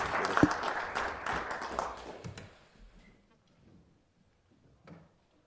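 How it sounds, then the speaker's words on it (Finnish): An audience applauds a lecturer: dense clapping for about two seconds that thins out and fades to near silence, with a few scattered claps afterward. "Annetaan tässä vaiheessa niin Jaakolle aplodi"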